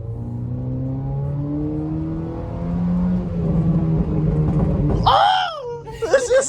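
Car engine revs up while driving, the pitch climbing steadily before sharp exhaust pops and crackles burst out near the end, with voices talking over it.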